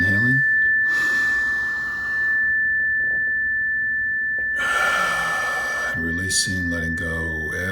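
A slow, deep breath is drawn in during a guided meditation, a soft airy inhale standing out clearly against quiet surroundings with a faint steady tone in the background.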